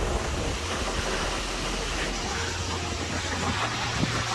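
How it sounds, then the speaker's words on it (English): Strong, steady wind roars and buffets the microphone near Vasudhara Falls in the mountains, a loud continuous rush with low rumbling gusts and no talking. "It's too windy"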